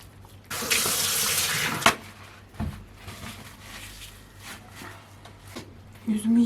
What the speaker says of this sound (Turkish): Güzelce yıkayalım.